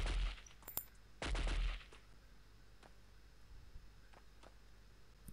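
Two short, loud clusters of gunfire at the start in the Delta Force game, on a patrol mission in Chad, then a few faint, distant cracks over a quiet background hiss.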